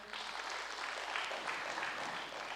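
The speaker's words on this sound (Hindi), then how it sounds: "उन माताओं बहनों के लिए भी ताली बजाइए थोड़ा सा" Continuous applause from a large seated audience in a hall at a spiritual gathering in Mount Abu, many hands clapping steadily and evenly for the whole stretch.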